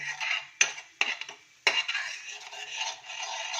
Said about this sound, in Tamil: உங்களுக்கு தேவையான அளவு காரம் போட்டுக்கோங்க இதெல்லாம் இப்போ வதக்கணும்னா இதையும் சேர்த்து இதோட ஆட் பண்ணி நல்லா வதக்குங்கம்மா